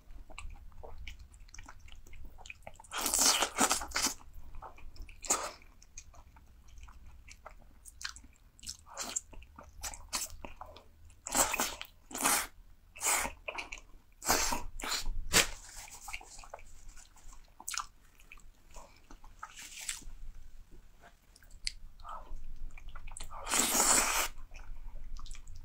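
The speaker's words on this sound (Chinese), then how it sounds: "今天吃卤肉大肠" Close, wet chewing and biting of braised pork intestines comes in intermittent bursts of crunchy, squishy mouth sounds against a quiet background.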